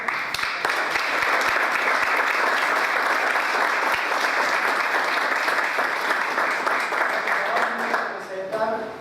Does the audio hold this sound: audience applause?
yes